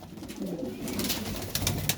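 Sialkoti pigeons cooing, a soft low continuous murmur of several birds close by, with faint background noise and no talk.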